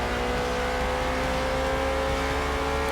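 A car engine in Forza Motorsport, a Ford or Ferrari endurance racer, holds a steady, loud droning rev with a constant buzzing tone and no pauses or voices over the few seconds.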